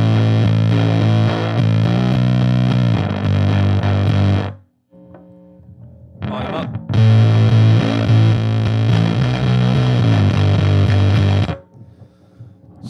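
Bass guitar, a jazz bass with independent pickups, through a Rogue Sound Savage Henry fuzz pedal: thick, loud distorted notes that cut abruptly into a gated silence, a brief burst, then a long sustained fuzzy passage that stops sharply.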